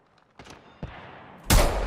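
Gunfire in the video game Apex Legends: a couple of sharp shots followed by a loud sustained burst of fire, close and dense, with no talking.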